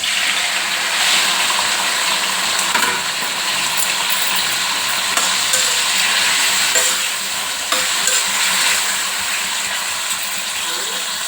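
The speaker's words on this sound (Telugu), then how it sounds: "ఇప్పుడు అదే నూనెలో టమాటా ముక్కలు" Tomato pieces fry in hot oil, giving a loud continuous hissing sizzle with occasional stirring scrapes and clicks, close and unbroken throughout.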